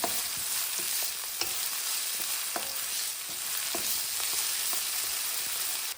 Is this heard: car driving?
no